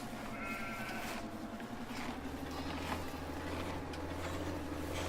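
A sheep bleats briefly near the start, standing out over a steady low droning hum that runs throughout, with no one speaking.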